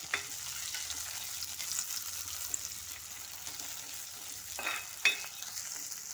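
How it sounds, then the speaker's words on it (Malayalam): Chopped shallots and green chili fry in a pan for a Kerala-style ivy gourd and soya curry, giving a steady low sizzle with stirring scrapes and a couple of brief louder clinks near the end, no talk. "ഇതിന് നല്ലപോലെ ഒന്ന് വഴണ്ട് വരണം"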